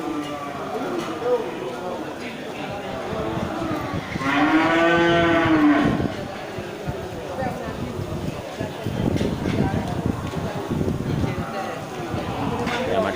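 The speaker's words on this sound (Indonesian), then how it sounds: "Ini satu ekor lagi sapi jenis Bless Rahma ya, sapi" Cattle at a livestock market lowing, with one loud, drawn-out moo in the middle over a steady crowd and market din, with people talking in the background.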